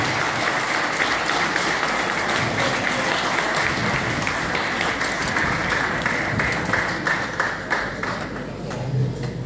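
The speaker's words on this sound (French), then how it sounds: "Est-ce qu'on ne devrait pas encore applaudir pour le champion du monde?" Audience applauding a world champion at a live event, a dense, steady wash of clapping from a crowd that carries on for the whole stretch without letting up.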